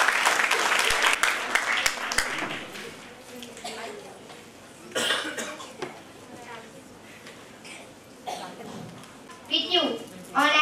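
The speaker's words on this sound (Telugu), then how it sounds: "టీమ్ మైనారిటీ వెల్ఫేర్ స్కూల్ ఒకసారి చప్పట్లు ఉంటుంది." A minority welfare school team gets bursts of clapping from the audience at a National Girl Child Day ceremony held at a district collector's office. The claps swell and fade under a speaker's voice.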